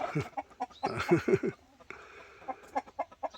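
A Rhode Island Red hen clucking up close in a series of short, low, throaty bursts, with a brief pause before softer rhythmic clucks resume.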